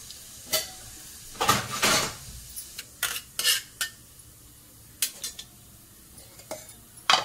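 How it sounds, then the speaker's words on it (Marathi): Cumin and mustard seeds hit hot oil in a pan as the tempering begins for garlic-free besan patvadya. Sharp, scattered crackles and pops sound close, mixed with a few metallic clinks of utensils against the pan, and no one talks. "आता आपल्याला जिरे आणि मोहरी टाकायची आहे फोडणीसाठी"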